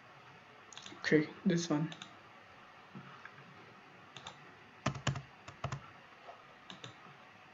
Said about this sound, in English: So we'll just click here and search for edit.